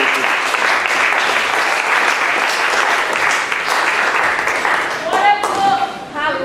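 Vigorous applause rises from a church congregation, a thick steady roar of clapping that fades near the end as voices and a few cries break through.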